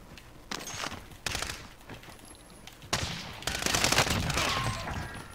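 Gunfire in the Warzone video game, including sniper rifle shots, comes as several sharp bursts and rolling volleys at moderate distance, one after another, growing denser toward the end.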